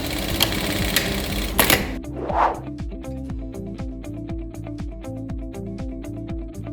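A SURE SR-7600E direct-drive single-needle industrial sewing machine stitching, a steady fast rhythmic ticking of the needle that follows a brief burst of louder mechanical noise, heard up close without speech.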